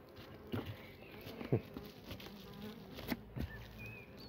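Honey bees work a hive at an apiary in July, their steady droning hum filling the air up close, with a few soft knocks and taps from handling the frames.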